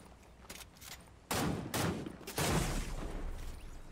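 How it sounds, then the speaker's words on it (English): Sniper and other gunfire in the video game Fortnite, heard as several sharp shots with a loud burst of sustained fire from the middle onward, with no talking. "He got sniped."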